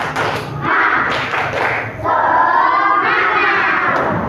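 A classroom of children doing a rhythmic spirit clap in a quick pattern, loud and close, with a few shouts mixed in.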